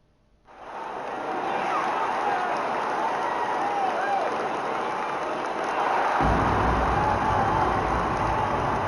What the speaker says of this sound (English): the crowds at Oracle Arena look to cheer on the hometown Warriors